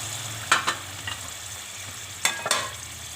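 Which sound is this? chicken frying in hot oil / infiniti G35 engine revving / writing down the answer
chicken frying in hot oil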